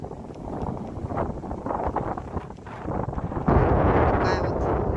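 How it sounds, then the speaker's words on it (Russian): Wind buffets a microphone outdoors at a viewpoint overlooking the Hyundai shipbuilding yard, a steady low rumbling roar that swells louder and harsher in the last second and a half, with no voices. "Правда, ветер дует."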